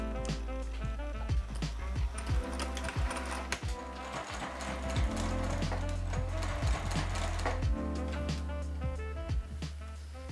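Sewing machine running in steady stitching bursts as it hems triple folds of 0.19 inch along the edges of a fabric face mask, close and clear with a constant rattling needle rhythm and no talk.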